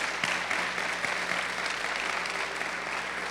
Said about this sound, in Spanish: ¿por qué no le damos un fuerte aplauso a los pastores que nos han venido